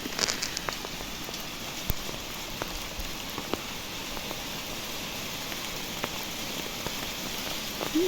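Hail falls outdoors in mid-October in the Kyiv region, a dense steady patter of small pellets on surfaces with occasional sharper nearby ticks, continuous throughout.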